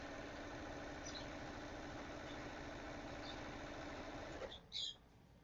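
A sewing machine stitches quilt pieces for a mystery quilt with a steady, close mechanical whir. It stops near the end, followed by a brief handling clatter.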